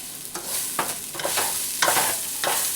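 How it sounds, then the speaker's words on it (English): Ginger, garlic and rice sizzle steadily in a hot frying pan, with repeated scraping strokes of stirring breaking through the constant hiss, close and fairly loud with no voices. "I bet the sizzling of the pan is making you guys hungry."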